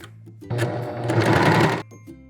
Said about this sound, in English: Next is sewing up the side seams.